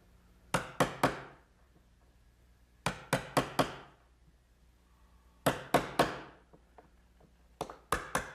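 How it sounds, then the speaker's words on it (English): An ordinary chisel squares out rabbets and dados in wood, heard as close, sharp knocks in quick clusters of three or four, separated by short pauses, with no talk. "All the rabbets and dados that we've made have to be chiseled out so that they're square, and I'll just do that with an ordinary chisel."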